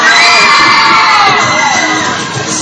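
A loud crowd of riders screams and cheers together on a Music Express fairground ride, a sustained high-pitched roar that holds strong and eases slightly toward the end.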